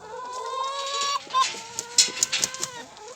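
Hens clucking close by in a quick, uneven run of short clucks and rising squawks, with no voices.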